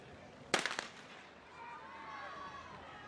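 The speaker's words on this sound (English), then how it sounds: "We listen in for the starter's gun." A starter's gun fires to begin a girls 400 meter dash at a track meet: one sharp, loud crack with a quick echoing tail, followed by a low crowd murmur in the stadium.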